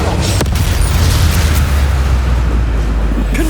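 The Avada Kedavra killing curse cast in the Hogwarts Legacy video game, a loud, dense rumbling blast with a deep low boom that fills the whole moment.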